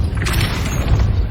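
Depulso force spell striking in Hogwarts Legacy: a dense, booming thud with a crashing edge, close and loud over a short rumbling tail.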